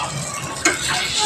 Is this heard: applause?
no